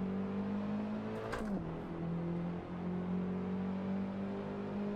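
Race cars in the Assetto Corsa video game at Donington Park produce a steady engine drone with a brief whooshing pass as one car overtakes another, fairly loud and continuous, with no talking.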